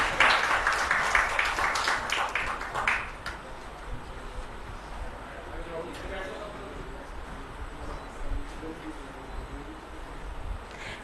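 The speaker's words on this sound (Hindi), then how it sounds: "जोरदार तालियां।" Audience applause at a ceremony in Dehradun where the President hands low-vision glasses to people with visual impairments; a burst of loud clapping fills the first few seconds, then fades into a murmuring crowd.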